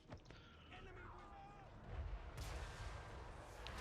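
Magma Cannon artillery firing in the Total War Warhammer 3 strategy game, booming blasts in a busy multiplayer battle with a sharp explosive burst midway and rumbling gunfire continuing behind.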